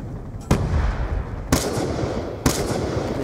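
Three loud, sharp shots from an XPR-50 rifle in Black Ops 2, spaced about a second apart, each a sudden broadband crack trailing into dense game ambience.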